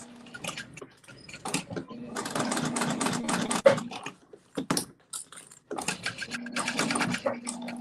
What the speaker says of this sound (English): So then I'm gonna sew down across some of my stitching